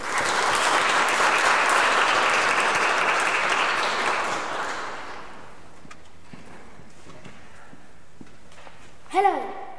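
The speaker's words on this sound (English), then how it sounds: "may we give a round of applause, please, to our stars from Fairfield and the Grammar School." Strong audience applause for young performers from Fairfield and the Grammar School fades out after about five seconds into quiet room noise, with a few scattered late claps and a brief voice near the end.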